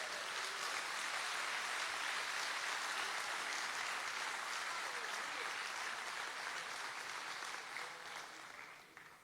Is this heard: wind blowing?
no